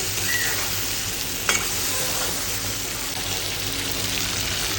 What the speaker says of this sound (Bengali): বেগুন আলু দিয়ে একটু কষাবো